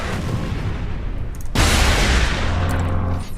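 Dense, rapid gunfire from a Kraken bolter in Warhammer 40,000: Space Marine, a continuous rattling barrage that grows louder midway, with booming low impacts.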